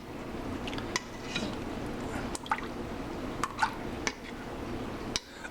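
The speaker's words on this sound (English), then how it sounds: "toss it a couple times just to coat it really good." Chicken pieces being tossed in a bowl to coat them for Asian chicken and rice, soft wet shuffling with a few light knocks and clinks against the bowl, fairly quiet and without speech.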